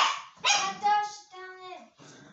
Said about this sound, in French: Désolée pour les petits chiens.